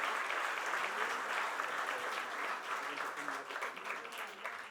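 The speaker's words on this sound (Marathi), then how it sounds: "आपण जोरदार टाळ्या वाजवून कौतुक करूया आणि आभार मानूया" An audience at a centenary celebration for a singer in Thane applauds two accompanying musicians with sustained, fairly distant clapping that stays steady, then eases slightly toward the end.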